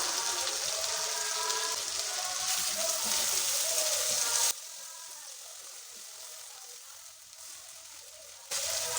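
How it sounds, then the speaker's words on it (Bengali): Masala for paneer butter masala, with curd and sugar added, sautés in hot oil. A steady, loud sizzle fills the whole stretch and drops in level partway through before rising again at the end. "আর প্রায় দু মিনিট মতো কষিয়ে নেব"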